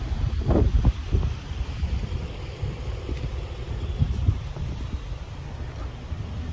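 Steady wind buffeting a microphone outdoors in a Food4Less grocery store parking lot, with low rumbling gusts throughout and a few faint thumps early on.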